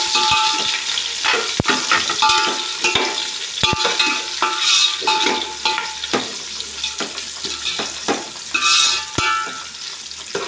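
Onions fry in oil for biryani while a utensil scrapes and stirs through them, a lively close sizzle punctuated by repeated sharp clinks and scrapes against the pan.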